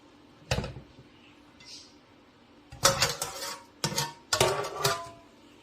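A slotted utensil scrapes and clatters against a cooking pan while scooping pancit noodles, sounding as a single knock early on and then three bursts of scraping clatter, close and fairly loud, with no talking.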